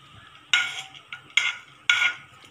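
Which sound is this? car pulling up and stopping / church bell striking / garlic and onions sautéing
garlic and onions sautéing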